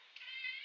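A single faint, drawn-out cat meow, quiet and fairly close, with no talking.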